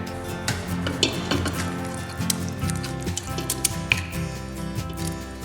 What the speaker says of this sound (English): now it's time to add in our pumpkin. So I just have here 1 tin of pumpkin puree.